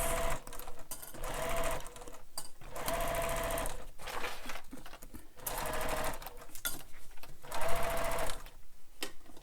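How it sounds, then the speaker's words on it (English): Sewing machine stitching a bag seam, loud rapid mechanical whirring in several bursts separated by short pauses, close up with no talking. "this stitching doesn't have to be super pretty, as long as you stay within your seam allowance"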